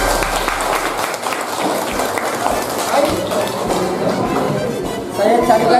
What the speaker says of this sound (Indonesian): Kita kasih aplaus dulu langsung